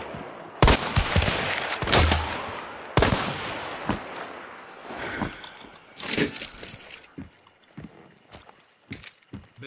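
Gunfire in the video game Hunt Showdown, a handful of loud, widely spaced shots with echoing tails, mixed with lighter clicks and footstep-like rustles between them.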